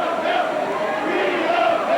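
A packed gym crowd at a 1989 Harrison vs Memorial high school basketball game roars in a steady, loud, sustained wash of cheering with no break.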